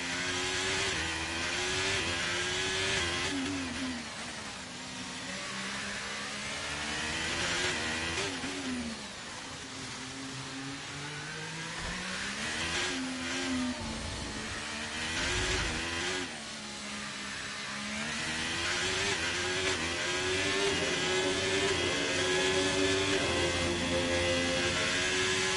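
A Formula 1 race car from the F1 23 video game screams through a hot lap at Monaco, a steady high-pitched engine whine that climbs and drops with gear changes, loud and continuous with no talk.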